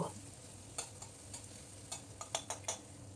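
Chopped onion being stirred in hot oil in a pan makes a faint steady sizzle, with light spatula scrapes and clicks scattered through the stir.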